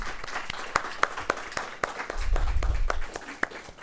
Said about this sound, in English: Let's have a round of applause for Annette and Sam.